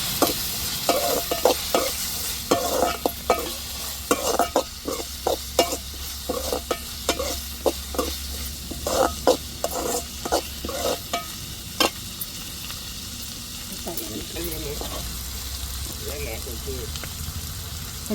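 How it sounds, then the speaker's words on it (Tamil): Tomatoes and onions sauté in a pan with a constant sizzle while a spatula scrapes and clacks in quick, irregular strokes for much of the time, then the frying hiss continues more evenly, with speech mixed in. "இப்போ தக்காளியை சேர்த்து வதக்கிக்கிடுவோம்."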